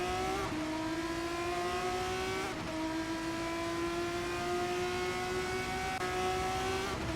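Formula 3 race cars scream around Circuit of the Americas in a racing game, a steady high-revving engine whine with brief gear-shift dips, loud and close, no talk.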